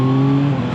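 The three-cylinder CP3 engine of a 2025 Yamaha MT-09 SP naked bike pulls through its mid-range, giving a loud, steady, smooth engine drone heard up close.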